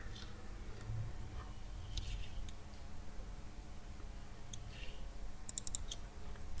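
Faint computer keyboard typing while entering a value in SolidWorks, a few light scattered key clicks over quiet room noise, with a brief cluster of taps toward the end.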